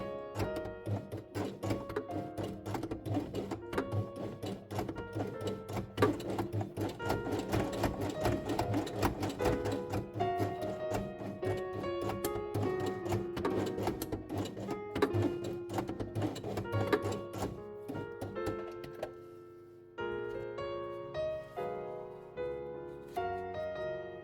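Sewing machine stitching fabric pieces for a koala page of an alphabet quiet book, a steady close mechanical whir running continuously with brief shifts as it sews forward and back, then a short pause before resuming.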